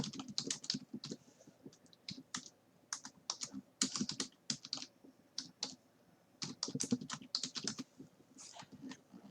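Someone types code on a computer keyboard, with quick irregular bursts of close, crisp key clicks and short pauses, played alone at a low level.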